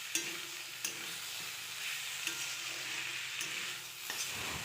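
Vegetables sizzle and fry in a pan with a steady hiss, punctuated by several sharp scraping knocks of a spatula stirring; no voices.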